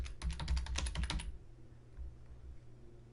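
Keys on a computer keyboard are tapped in a quick close burst of about a dozen strokes, then stop, leaving faint room hum.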